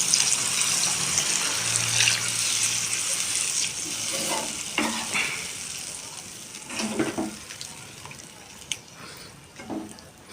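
Water poured into a sizzling pan of salna, a loud steady hiss and splash of frying and bubbling liquid, with stirring scrapes and clinks breaking through near the end.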